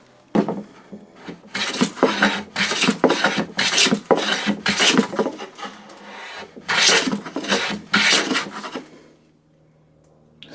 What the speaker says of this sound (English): It's taking a fairly nice shaving here.